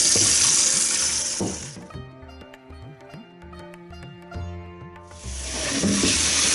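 Cold water rushes from a tap into a clay tajine, then cuts off for a few seconds of clinking and trickling before the stream returns loudly.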